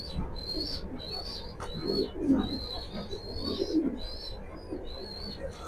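In a loft of Sabji Maxi pigeon pairs with their young, low, burbling coos swell near the middle while a steady series of thin, high chirps repeats above them; nobody speaks.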